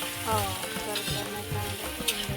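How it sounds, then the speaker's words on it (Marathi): Sliced onions fry in oil for spicy egg bhurji, a close, continuous sizzle with soft stirring scrapes, and a voice murmurs faintly in the background. "एकदम मस्त तळून घेतलेला आहे मित्रांनो कांदा"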